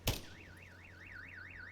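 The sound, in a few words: car alarm going off in a video game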